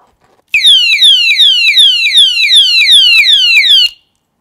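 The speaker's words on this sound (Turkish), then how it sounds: "Alarmlı demiştim 120 desibel alarmda aynı diğerleri gibi." A piercing 120-decibel electronic padlock alarm wails loudly in fast repeating sweeps for about three seconds, then stops abruptly.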